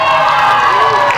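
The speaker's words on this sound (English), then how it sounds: "can you give us the sort of normal cheer or whatever it is you do in your part of the world?" A high school team at a national schools competition final gives a loud, sustained group cheer, a dense wall of young voices filling the hall without a break.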